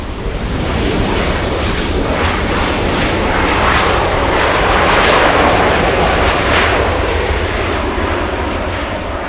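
A jet airliner at LAX airport roars with its engines at high thrust, a loud, broad, steady rushing rumble that holds for the whole stretch, close and unbroken with no talk.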